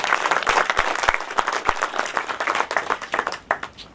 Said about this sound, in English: Really, they deserve a big round of applause,